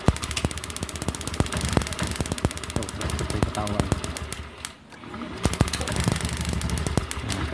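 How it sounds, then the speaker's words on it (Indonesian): A Honda Beat scooter's engine runs close by with a rapid, rattling, knocking idle, loud and steady, dipping briefly in the middle before picking back up. "Sepeda motor pun ya mau hidup."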